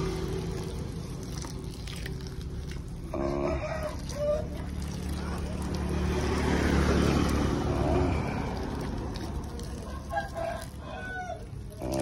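Chickens cluck and a rooster crows nearby, with other faint farmyard noise in the background.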